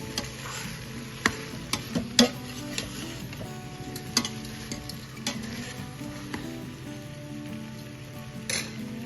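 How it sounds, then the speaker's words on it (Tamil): Potatoes frying in a pan for aloo rasedar are stirred and turned, with a soft continuous sizzle and scattered clicks and scrapes of the spoon close by. "இதை நல்லா திருப்பி விடணும், ஒருத்தர் நல்லா கலந்து விடணும்."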